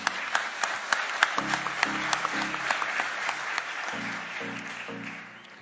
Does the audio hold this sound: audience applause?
yes